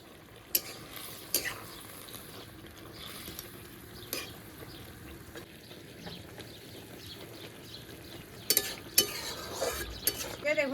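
Fish curry with rohu and potatoes simmers in a pan, a quiet, steady bubbling sizzle with occasional sharp clicks and scrapes of a stirring utensil nearby.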